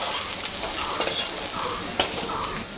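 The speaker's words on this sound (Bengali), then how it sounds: "মাছটা ভাজা হয়ে গেছে," Fish sizzles and crackles steadily in hot mustard oil in a wok, with a few sharper pops and the scrape of stirring over a continuous bright frying hiss, close and fairly loud.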